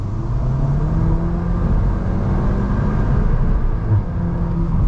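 A VW Golf R MK8 accelerates hard at full throttle in traffic, its engine giving a steady, loud, droning roar with rising tone, heard from inside the car and with no talk.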